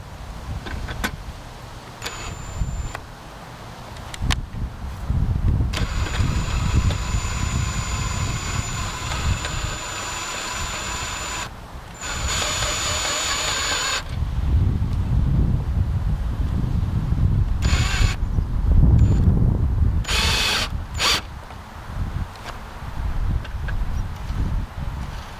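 A cordless drill drives a wheelie bar's leveling peg into the ground outdoors, a sustained loud whirring run broken by short pauses, with wind buffeting the microphone throughout.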